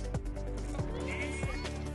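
Several short bleats from a lamb or sheep on a farm on Waiheke Island, New Zealand, repeating at uneven intervals over a steady outdoor background, fairly close and clear.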